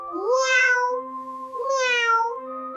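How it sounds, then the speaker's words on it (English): A cat meows twice, with clear tonal rising-and-falling calls separated by a short pause, close and fairly loud. "Sometimes the first meow is soft and exploratory."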